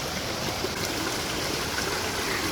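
A river stream flows steadily along a forest trekking trail toward a waterfall, a close, continuous rushing and trickling wash of water heard on its own without voices.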